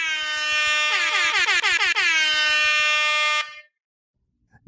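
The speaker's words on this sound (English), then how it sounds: "I'm doing much better now that I have like 18 air horns introducing me" A blaring air horn sound effect blasts in rapid stuttering pulses for over three seconds, loud and harsh with a rhythmic pumping pattern, then cuts off abruptly into silence.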